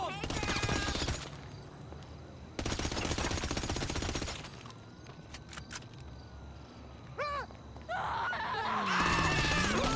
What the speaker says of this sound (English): I was shooting the rats